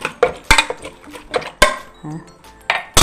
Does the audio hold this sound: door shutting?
no